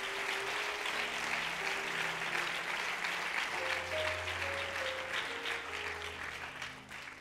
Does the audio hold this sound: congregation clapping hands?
yes